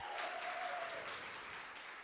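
An all-women audience at an International Women's Day event cheers and applauds, a steady wash of clapping with a raised shout near the start that fades slightly over two seconds.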